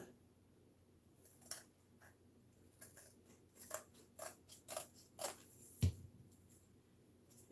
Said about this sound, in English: And what I'm going to do is cut it.